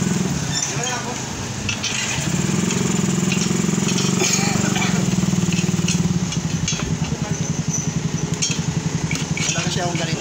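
A power drill whirs with a steady motor hum while a top box bracket for a Honda Click V3 is unboxed and fitted. People talk over it, then a burst of rapid rhythmic clicking follows.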